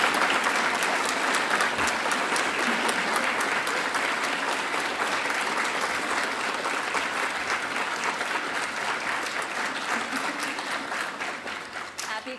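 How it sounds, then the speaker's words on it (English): A standing crowd at a Class of 2024 graduate recognition ceremony applauds the graduating class, dense sustained clapping filling the room evenly for over twelve seconds and tapering slightly at the end. "please stand so we can clap for all of you one more time"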